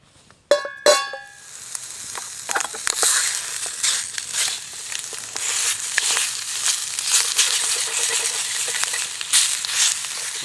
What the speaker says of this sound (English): we'll start cooking this sausage up